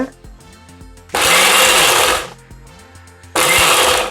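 Mixer grinder shredding coconut in short pulses: two loud, roaring bursts of about a second each, separated by quieter gaps, close by.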